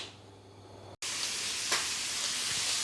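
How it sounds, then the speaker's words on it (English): Bacon frying in a pan until crispy, a loud, steady sizzle with crackling pops that drops out for an instant and then returns even louder, with no talking over it. "I'm about to cook mine until crispy because I like a crispy bacon."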